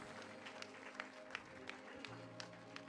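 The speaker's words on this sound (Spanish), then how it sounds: "Dale el aplauso." Faint applause from a church congregation during a Spanish-language sermon, a soft, steady patter with a few sharper claps standing out over a low background hum.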